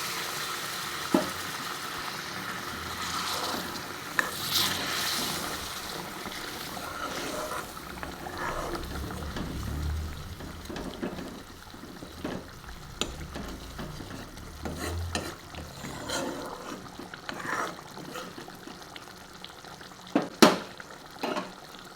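Hot water poured into a sizzling pan of palak matar paneer sets off a close, bubbling hiss with scraping and stirring clatters scattered through, plus a few sharper knocks near the end.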